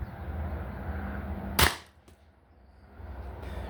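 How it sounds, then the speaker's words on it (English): A Beeman BP50 CO2 BB pistol fires a single sharp, close shot. Quiet room tone with a steady background hiss surrounds it. "So this is the last shot on this magazine."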